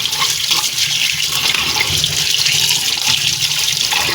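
Tap water runs steadily into a sink while raw chicken feet are washed under it, a continuous close splashing rush with no speech.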